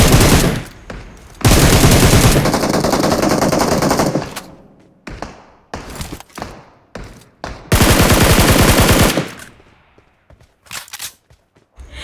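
Loud automatic gunfire rattles in a squad-battle shooter game on an Ancient Temple map, with SCAR-L rifle bursts among the shots. Long sustained volleys alternate with short separated shots and brief pauses, all close and without talk.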